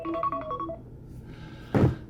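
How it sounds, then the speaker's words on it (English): A phone alarm chimes a quick rising melody of short electronic tones, fairly close but soft, then a brief thump ends it. "That's my alarm to go."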